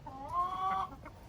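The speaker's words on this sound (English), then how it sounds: "We've got two roosters, two Legbar roosters in here." A single Legbar hen gives a drawn-out, tonal cluck lasting under a second, close by and clear against quiet background.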